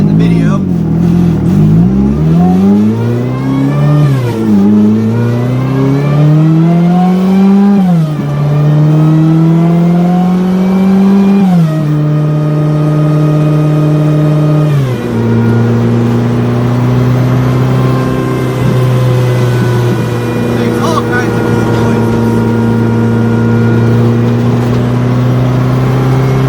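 A Honda engine with a modified turbocharger revs up repeatedly, pitch climbing and dropping in several surges, then settles into a steady loud drone, close and continuous.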